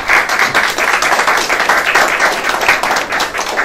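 Loud, close audience applause with dense, steady clapping from a room full of people, continuing without a break.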